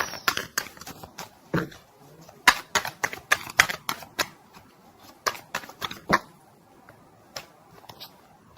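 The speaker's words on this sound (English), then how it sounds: "Card flip." Tarot cards flipped and snapped down one after another during a reading, a series of sharp, close papery clicks and slaps at an uneven pace, with quiet gaps between them.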